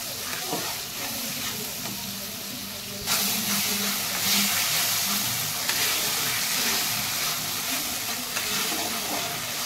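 Prawns sautéing with mankochu (giant taro) leaves in a pan give a steady, close hissing sizzle that grows louder and fuller after about three seconds and carries on evenly.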